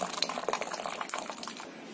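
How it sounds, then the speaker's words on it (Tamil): Masala milk tea pours from a height in a steady, splashy stream, close by, with bubbling and frothy texture throughout and no talking. "ஊத்தும் போது இப்படி நல்லா தூக்கி ஊத்துங்க."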